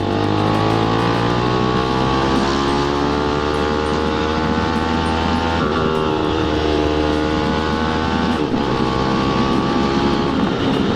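A GPR250 motorcycle fitted with an SC1-R aftermarket muffler, revving hard against the ECU rev limiter: a loud, close, continuous high-pitched engine scream held steady, with brief dips as the limiter cuts in.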